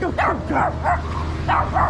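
A small miniature dog barks five times in quick yapping bursts, close and loud, on a street in Laos with no talk over it.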